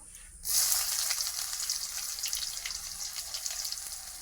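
Tilapia fish dropped into hot mustard oil with chillies, starting with a sudden loud sizzle that stays as a steady bright hiss and crackle, close and alone.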